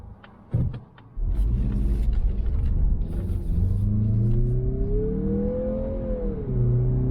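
A 2023 Mazda CX-50 compact SUV accelerates hard, its engine rumble swelling into a rising, then levelling whine as speed builds, heard from inside the cabin.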